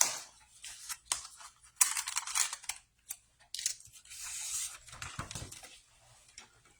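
Scissors snipping through paper photo mats for a handmade scrapbook mini album, a rapid series of crisp close-up cuts and rustles with short pauses between bursts.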